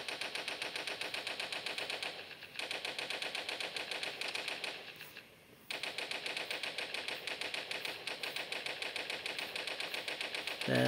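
Sustained machine-gun fire in the game Toilet Monster Hide N Seek, a fast steady rattle broken by two short gaps, loud and close throughout.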